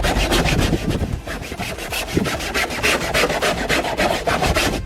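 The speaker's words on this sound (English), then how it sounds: "after some intense scrubbing" A scrub pad is worked hard back and forth over the surface of a cargo van, loud rhythmic rasping strokes repeating quickly and close, with no talk.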